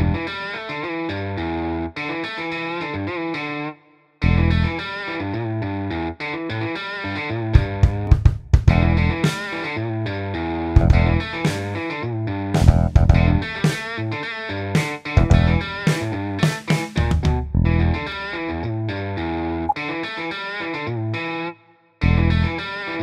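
Melody generated by the Pitchcaster plugin with about 40% of the pitches randomly replaced, played on a distorted, chorus-effected synth lead in a steady run of notes with brief pauses, loud and alone.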